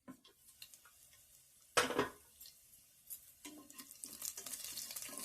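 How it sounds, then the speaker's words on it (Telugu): A metal lid clatters onto a pot with one sharp, close clank, followed by faint scraping and soft sizzling from green chillies frying for an eggplant and egg curry, with light kitchen clinks. "మూత పెట్టుకోవాలి."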